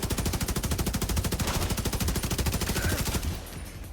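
Rapid automatic gunfire in a video game, a continuous loud stream of shots for several seconds before stopping abruptly, with no talk over it.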